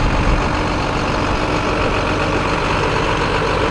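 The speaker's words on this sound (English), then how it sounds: "DT466 turbo diesel engine coming along right there, you can probably hear." A 2005 IC CE300 77-passenger school bus idles with its DT466 turbo diesel engine, a loud, steady, rumbling drone close by throughout, with no voices.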